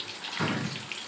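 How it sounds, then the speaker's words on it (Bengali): Water poured into a cooking pan with sliced pointed gourd to simmer, a short, soft gush of splashing liquid lasting about a second, close by with no talk. "একটু জল অ্যাড করবো।"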